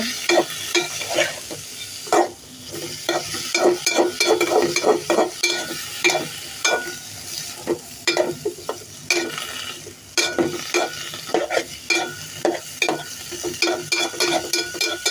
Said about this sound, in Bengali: আমি তখন লুচা মাছ রান্না করছি, মাছ মধ্যে ভাজি করছি ডিম দিয়ে